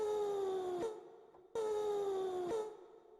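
A looped sampler synth built from the Flying Dutchman's howl, played on a keyboard without effects: two long, moaning wailing tones that slide slightly downward, each ending in a click before the loop restarts.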